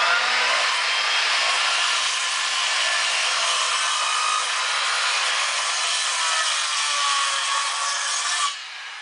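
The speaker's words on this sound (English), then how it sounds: "We're going to start doing radius cuts with a skill saw." Circular saw cutting radius curves into thick wood framing, a steady loud whine and rasp running continuously for about eight seconds, then abruptly dropping off near the end as the blade leaves the cut.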